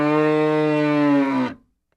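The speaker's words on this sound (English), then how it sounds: "What does a cow say?" A single long cow moo, loud and close, holding a steady low tone for about a second and a half before cutting off into silence.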